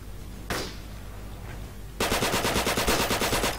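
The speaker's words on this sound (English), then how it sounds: "Now I get shot at." Gunfire in Forgotten Hope 2 on the Gothic Line map: a couple of isolated sharp shots, then a sustained rapid burst of automatic machine-gun fire, loud and close, with no talk.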